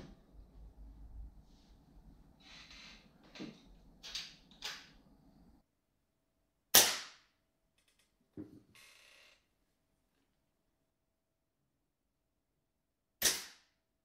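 Two sharp, loud shots from a Weihrauch HW97 air rifle with a silencer, several seconds apart, each a crisp crack with a quick decay, following some faint handling noise and clicks.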